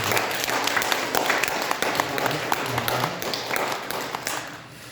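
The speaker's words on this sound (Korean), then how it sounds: "모두 수고하셨다고 박수 한번 드리겠습니다" A church congregation applauds during a Sunday morning service, a sustained patter of many hands clapping together, fairly close and even.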